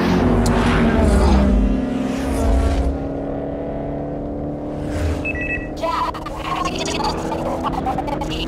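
Engines from cars in a street racing video game, steady and fairly loud, with game music tones and a few electronic beeps riding over the engine drone.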